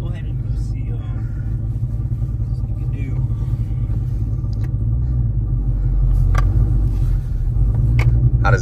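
A modified 2023 Chevrolet Camaro 1LE with an uneven, shaking engine rumbles steadily and deeply throughout, growing slightly louder toward the end, with people talking over it.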